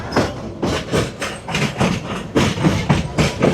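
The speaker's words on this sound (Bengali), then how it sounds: "তো এখন প্রতিদিনের মতোই ট্রেনটা সঠিক টাইমে ছেড়ে দিছে" Mahanagar Provati train pulling out of Kamalapur railway station, wheels clattering in a steady repeating rhythm with heavy low rumble, close and fairly loud.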